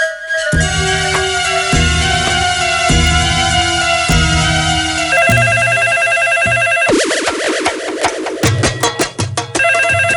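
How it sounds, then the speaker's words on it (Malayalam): A telephone rings with repeated electronic ringtone bursts in a regular rhythm, loud and close, shifting to a faster warbling ring pattern partway through, with no talk. "മോനേഷ് സാർ ഫോൺ എടുക്കുന്നില്ലല്ലോ ശിശുപാലൻ ചേട്ടാ."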